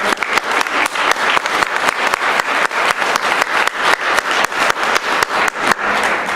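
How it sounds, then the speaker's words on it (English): Loud, sustained applause from a sizable audience at a city council candidate forum, steady clapping with a rhythmic pulse throughout, close and full, without any speech. "Let's give the candidates a round of applause."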